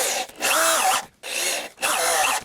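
A power drill whines in three bursts with short pauses between, the motor pitch bending as a screw bites into wood, close and loud.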